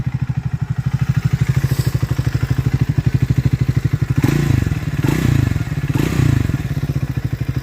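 Triumph Speed 400 motorcycle idling close by with a steady loud single-cylinder thump, a few brief blips of the throttle swelling the note near the end.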